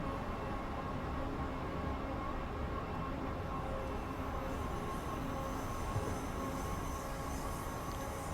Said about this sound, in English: train just whizzing past on the main line there